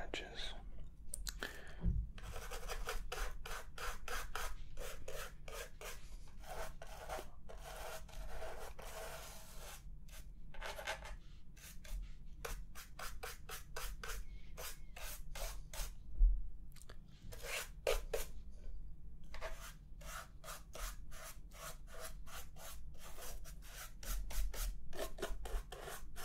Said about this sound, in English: all we're doing there is just removing the dust